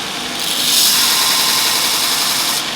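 A Robert Sorby Pro Edge belt sharpener grinds a woodturning skew with a 25-degree skew angle and 15-degree bevel, giving a loud steady whirring abrasive rasp close by, swelling briefly as the tool presses in.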